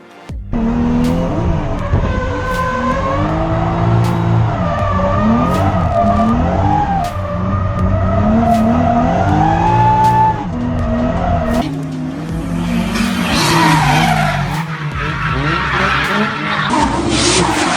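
A car engine revs hard and rises and falls while tires squeal repeatedly through drifting slides, loud and close, with occasional sharp clicks.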